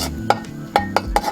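Flour being stirred while it roasts in a pan for Sri Lankan aluwa, with a spoon scraping and clinking against the metal in a few short strokes, close and moderately loud.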